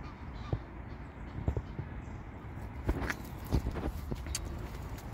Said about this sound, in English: I'm seeing some interesting birds.